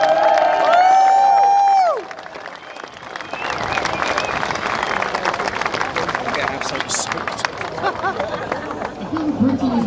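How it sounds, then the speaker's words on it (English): A crowd at a rally breaks into applause and cheering after a loud amplified voice stops, the dense clapping and shouts swelling and holding steady for several seconds. "Give yourselves a round of applause."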